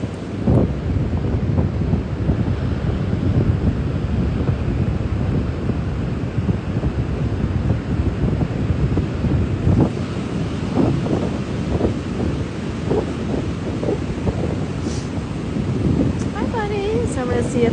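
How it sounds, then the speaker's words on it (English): Wind buffets the microphone and waves roll in at Ocean Beach in San Francisco, a steady loud roar of surf and gusts throughout, with faint sounds breaking through near the end. "We're at Ocean Beach again in San Francisco."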